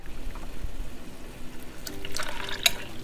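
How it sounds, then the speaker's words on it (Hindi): A cup of water poured into a bowl of yogurt in a home kitchen, a faint liquid splash and trickle building in the second half, close and soft with no talk. "इसको बाउल में डालते हैं और 1 कप ही हम इसमें पानी डालेंगे"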